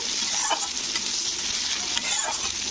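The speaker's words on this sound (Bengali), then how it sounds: "তো পেঁয়াজটা একটু ব্রাউন করে ভেজে নিতে হবে" Chopped medium onion sizzles steadily in hot oil in a pan, frying toward brown, with a couple of soft stirring scrapes over the continuous hiss.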